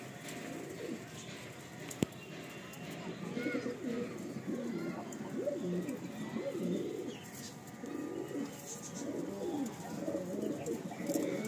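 Madrasi pigeons coo softly and repeatedly in a loft, a low burbling chorus that runs steadily throughout, with a sharp click near the start and background talk faint beneath the birds.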